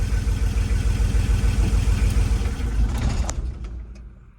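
A Cummins P7100-equipped diesel engine rumbles loudly at idle, then winds down and falls silent when cut off with a manual fuel shut-off cable, leaving a few faint clicks as it stops.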